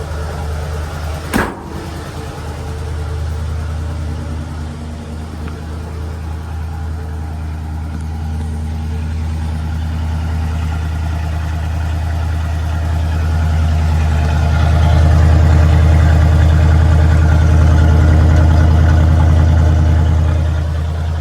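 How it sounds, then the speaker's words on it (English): A 1970 Ford F100 Explorer Custom pickup holds a high idle after a cold start, its exhaust a steady, close, low rumble that swells slightly later on, with one sharp click near the beginning. "I just put it at a high idle with pushing the accelerator pedal"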